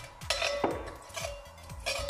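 Cumin seeds are stirred in hot oil in a metal pan, a utensil scraping and clinking against the pan in a steady rhythm of about five strokes over a faint frying hiss, close and fairly quiet.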